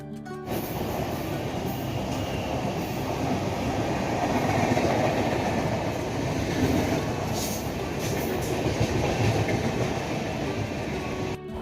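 A train rolls steadily along the tracks, with a continuous rumbling clatter of wheels and a faint squeal now and then, loud and close throughout.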